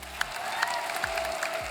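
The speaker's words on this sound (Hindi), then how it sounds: "जोरदार तालियां एक बार" Applause from a studio audience at a Hindi comedy talk show rises softly, with faint clapping under a tonal musical bed punctuated by regular low thumps.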